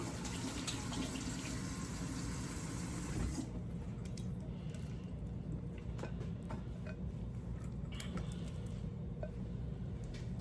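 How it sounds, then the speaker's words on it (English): Egg mixture for a quiche is poured over the filling, a steady liquid pour for about three seconds, then softer splashes and faint clatters over a constant low background hum. "And then we're going to pour our egg mixture right over the top of that."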